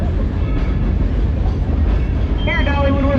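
Dollywood amusement park train rolling along its rails, a steady low rumble with rattling wheels throughout, and a brief squeal or whistle-like tone near the end, with people talking over it.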